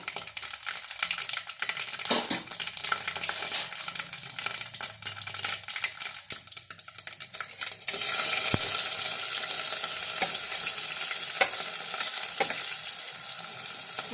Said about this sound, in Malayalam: എണ്ണ ചൂടായിട്ടുണ്ട് എണ്ണയ്ക്കകത്തേക്ക് കടുക് ഇട്ട് കൊടുക്കുക